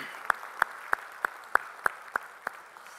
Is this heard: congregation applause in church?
yes